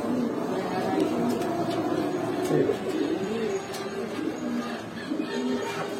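Male Sabji Muslidom pigeon cooing in low repeated rolling phrases, close by, with people talking over a steady background murmur.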